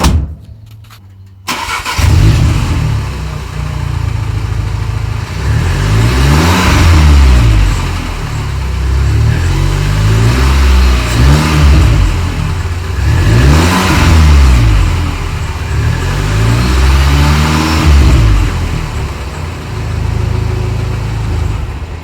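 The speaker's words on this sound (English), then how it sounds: "you can definitely hear the engine, like the parts moving" An Audi S3 8V engine with a modified intake starts, then revs up and down repeatedly in loud, swelling bursts over a steady rumbling idle, close by.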